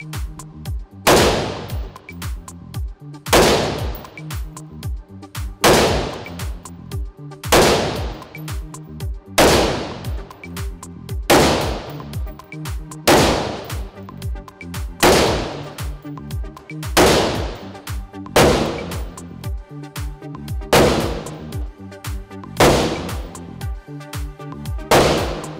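Single gunshots crack at a gun range at a steady rhythm, roughly one every two seconds, each loud sharp report ringing briefly before the next, with no talk between them.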